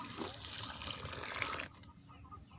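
Hot water is poured over cooked rice and fish meal to soak it for fermented chicken feed: a faint, continuous pouring trickle for under two seconds that then stops, leaving a quiet room.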